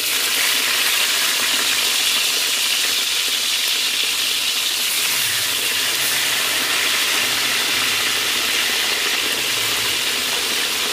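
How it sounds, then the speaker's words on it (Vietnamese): Sea bass fries in hot oil in a pan with shallots, a loud, continuous sizzling hiss that dominates throughout, close up and without talk. "Mình cho cá vô mình chiên."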